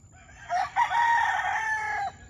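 A fighting rooster crows once, loud and close, a long strained call with a brief break near its start, over a quiet background.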